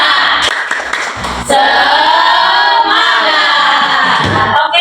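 An eighth-grade Arabic class performs a spirit clap, with a few sharp claps followed by the students' voices chanting loudly in unison, close and energetic.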